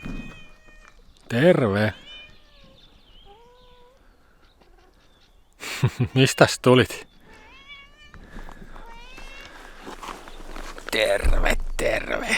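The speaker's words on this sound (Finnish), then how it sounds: "Paitsi kissa tuli." A cat meows a few times on a quiet hiking trip at Koli, the short cries coming between bursts of nearby talk and a greeting to the animal, with footsteps and rustling underneath.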